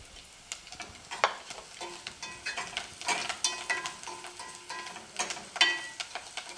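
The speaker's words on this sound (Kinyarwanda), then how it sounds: "Nkunda gukaranga ibirungo mu mavuta ngiye bituma bimpumuriramo byose, black pepper, red chili n'umunyu." Spices with black pepper, red chili and salt frying in oil alongside eggs, giving a steady close sizzle broken by repeated scraping stir strokes and light clinks of a utensil against the pan.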